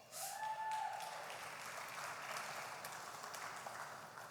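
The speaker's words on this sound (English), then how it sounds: "With that kind of applause" Awards ceremony audience applauding at the All Africa Business Leaders Awards finale, a steady wash of clapping through the whole stretch, loud at first and then holding level.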